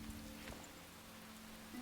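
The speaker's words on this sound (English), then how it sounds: "And the rain put out my fire." Rain falls steadily in the Enshrouded survival game, a soft, even hiss of drops with a faint low hum underneath, quiet and continuous with no talking.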